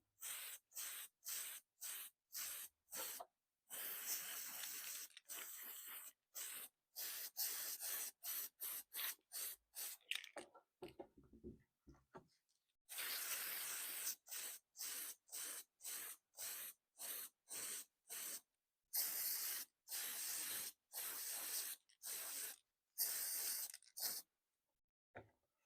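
Spray can coating an RC car's polycarbonate body shell with white paint: repeated short hissing bursts, close and bright, separated by brief pauses with one longer gap midway.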